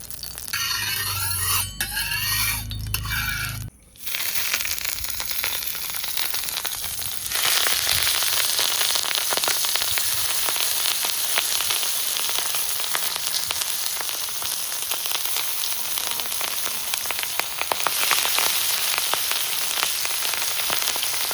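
Mustard oil sizzles on a flat tawa before bhetki fish paturi wrapped in banana leaf goes in, giving a steady, bright crackling hiss that runs almost throughout after a brief quieter start.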